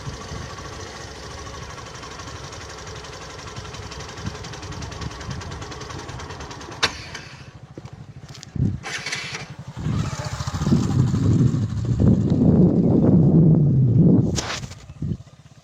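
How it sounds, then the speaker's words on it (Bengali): A motorcycle engine hums steadily while riding along a village road in rural Bangladesh, with a few sharp knocks partway through and a rougher, louder rumble building near the end. "আমরা দুজন যাচ্ছি, মোটর সাইকেলে যাচ্ছি।"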